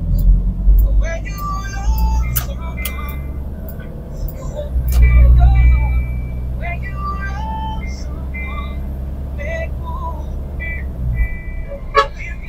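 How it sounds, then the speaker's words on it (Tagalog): Steady traffic drone and engine rumble heard from inside a 2003 Nissan Patrol SUV in slow city traffic, a low continuous roar with passing vehicles and small clicks, while people talk throughout. "Kaya kita nyo dito, medyo traffic na."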